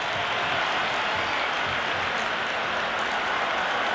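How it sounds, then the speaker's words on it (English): A packed cricket stadium crowd at an India versus Pakistan T20 match, a dense, continuous roar of cheering and buzzing from the stands, steady and enveloping, with no distinct voices. "There's a buzz, a real buzz coming from the stands."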